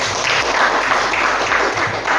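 Audience applause for all the presenting groups at the end of a teacher coaching and academic supervision session, a steady wash of many hands clapping at moderate volume, continuous and dense throughout with no talk over it.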